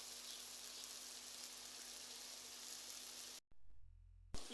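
Masala sizzles quietly in a pan as fresh cream goes in, a faint steady frying hiss that cuts out briefly near the end before returning.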